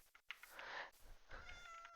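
A cat meows twice in Minecraft, each a clear, bright, drawn-out call close to the listener, with a short gap between them and faint game sounds behind.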